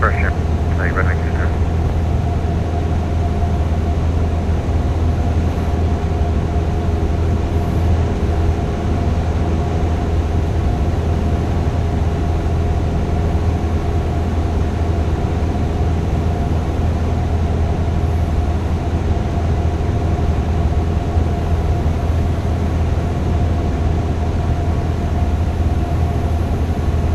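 Steady, unbroken drone of a Grumman light aircraft engine heard from inside the cabin during flight, loud and constant throughout with low hum and faint tonal whine.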